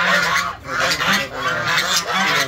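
Waterfowl call repeatedly at close range, loud honking quacks coming in a rapid, overlapping series.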